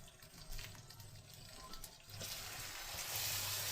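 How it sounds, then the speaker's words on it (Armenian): Boiling water poured from a kettle into a pot of vermicelli, a steady splashing stream that grows fuller and louder as the pot fills, close and alone. "Ավելացնում եմ եռման ջուր։"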